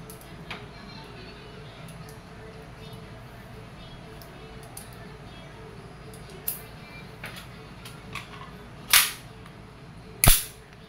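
A KWC 75 Competition airsoft pistol fires a few test shots, sharp isolated cracks coming late and spaced apart over a low room hum, with a voice speaking.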